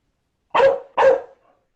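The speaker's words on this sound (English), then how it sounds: "What kind of dog is he? A chow." A chow chow dog gives two sharp, close barks about half a second apart, each ending with a brief trailing tail, with silence around them.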